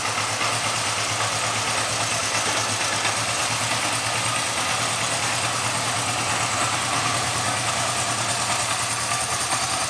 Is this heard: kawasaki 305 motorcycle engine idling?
yes